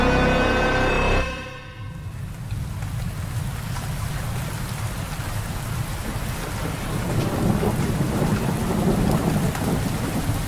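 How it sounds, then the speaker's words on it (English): A tonal sound cuts off after a second, then steady rain pours with deep thunder rumbling beneath, growing slightly louder toward the end. "Sydney and Emma are walking, and it's raining now"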